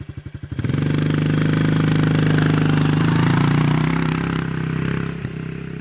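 A 2019 Honda CRF110 dirt bike ridden in third gear: a loud, close engine drone with a rhythmic pulse kicks in after a brief rough start, then holds steady with slight dips in pitch near the end.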